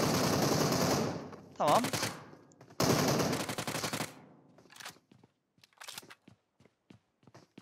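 Gunfire in the mobile battle royale game PUBG Mobile, long loud bursts of rapid automatic fire followed by scattered fainter single shots, with a player speaking briefly.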